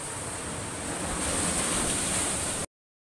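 Ocean waves pounding the shore near a hut during Typhoon Odette at night, a continuous roaring surge mixed with wind, loud and steady until it cuts off abruptly.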